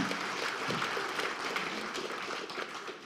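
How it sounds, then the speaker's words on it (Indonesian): A crowd at a party national working meeting applauds steadily and densely, a broad wash of clapping that holds at an even level throughout with no speech over it. "Tepuk tangan yang meriah"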